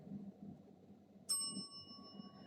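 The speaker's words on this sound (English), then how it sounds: "I will ring the bell one time." A bell rings once as a debate timer, a single bright ding that rings on with a sustained tone over low background murmur in a room.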